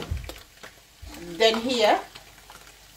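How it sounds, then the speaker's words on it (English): Corned beef fries in a pan, with a steady sizzle under a voice that speaks briefly, plus occasional stirring scrapes. "I'm still frying the corned beef,"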